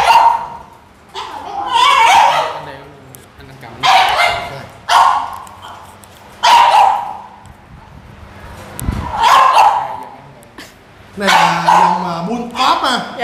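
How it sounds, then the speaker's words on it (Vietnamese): French bulldogs bark and whimper in repeated bursts close by, several loud yips spaced a second or two apart, with people talking between and over them. "Bây giờ là mình sẽ vô mấy con chó này nó xuống."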